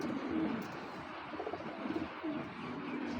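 A black checker racer pigeon gives low, soft coos in a few short bursts, close and quiet, amid faint ambient noise.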